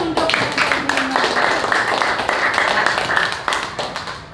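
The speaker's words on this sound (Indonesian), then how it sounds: "Tepuk tangan dulu untuk" Schoolchildren in a primary school classroom clap in quick rhythmic bursts, close and loud, the patterned clapping repeating in short blocks with brief pauses between, a few voices mixed in.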